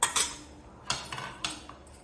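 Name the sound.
lid being placed on a cooking pot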